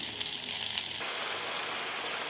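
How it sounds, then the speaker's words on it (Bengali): Ground mustard, ginger, turmeric, chili and salt sizzling as they fry in a pan, a continuous close hiss that brightens partway through; no voices. "সমস্ত মশলা আমি ভালো করে ভেজে নিচ্ছি। ভালোভাবে কষিয়ে নিচ্ছি।"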